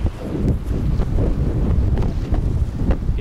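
Steady wind rushes across the microphone while riding a bicycle along the Danube, a continuous, fairly loud blustery roar with slight gusting and no voices.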